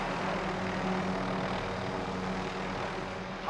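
A helicopter in the video game Call of Duty: Modern Warfare flies with a steady droning engine and rotor roar, continuous and fairly close, with no talk.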